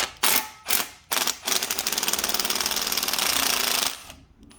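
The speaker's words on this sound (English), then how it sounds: "So first up, we're going to remove this baffle nut." Pneumatic impact wrench spinning off the baffle nut on an LOJ Conversions oil pan for a Nissan 300ZX Z32 LS swap: a few short loud bursts, then a sustained rapid hammering rattle for about two and a half seconds before stopping.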